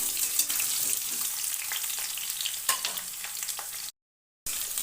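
Cut ridge gourd frying in a pan, a close, steady sizzle with frequent stirring scrapes and clicks, briefly cutting to silence near the end.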